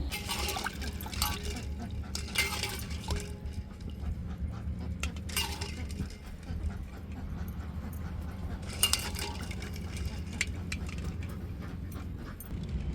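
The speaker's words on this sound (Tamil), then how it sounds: "அடுப்பில் ஒரு பாத்திரத்தில் தண்ணியை ஊற்றி அவிச்சு எடுத்துக்கிடுவோம்" Water runs into a cooking pot set for boiling eggs, a steady, quiet rushing splash that continues throughout, with occasional faint metallic clinks.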